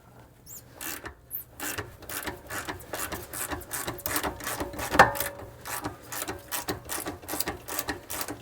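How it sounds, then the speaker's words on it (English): A ratchet wrench with a 14 millimeter socket removes bolts from a Nissan Z31 rear end, making a rapid series of close clicking bursts in uneven strokes with an occasional metallic clank. "We'll just keep ratcheting it off on the bottom with a 14 millimeter."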